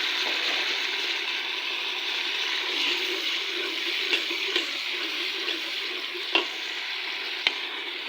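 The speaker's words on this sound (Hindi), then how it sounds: "अदरक लहसुन का पेस्ट हो गया फ्राई।" Steady close sizzling of ginger-garlic paste frying in a pan with browned onions, with occasional clicks and scrapes of stirring, no talking.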